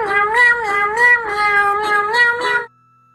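A cat meows loudly and close up in a long series of drawn-out, wavering cries for about two and a half seconds, then falls silent.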